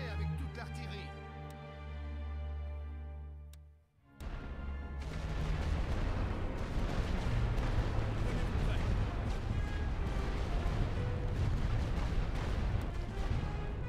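In the World War I strategy game The Great War: Western Front, artillery fires: a sustained tonal rumble fades out, then dense, continuous booming barrages and rolling gunfire fill the rest loudly.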